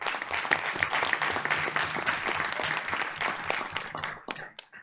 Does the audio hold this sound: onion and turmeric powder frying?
no